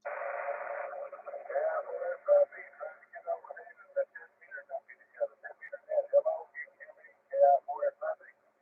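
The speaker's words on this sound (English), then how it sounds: "I get the noise levels there, but I can hear you real well there, Richard." An amateur radio check-in comes over a simplex FM net on 146.415. Band-limited, tinny speech stops and starts, and a burst of noise opens the transmission.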